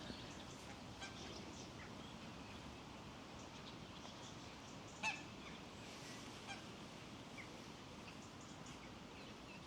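Faint honking geese in the distance over a steady outdoor wash of background noise, one call briefly standing out, at Ward Park, Bangor, County Down.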